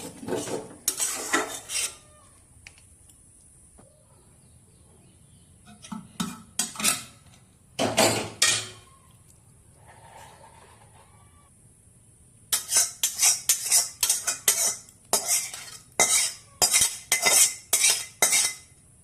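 Dahi bhindi, okra in yogurt gravy, stirred in a pan: sharp metal spoon scrapes and clinks against the pan come in bursts, sparse at first, then a quick run of rhythmic strokes near the end, close and with no voices.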